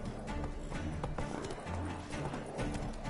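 Roach, the player's horse in The Witcher 3, gallops with steady clip-clop hoofbeats close up, running continuously over a dense game soundscape of ambience and effects.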